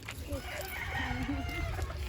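Roosters in a backyard flock crow faintly in the background while people talk over them, steady low outdoor noise throughout.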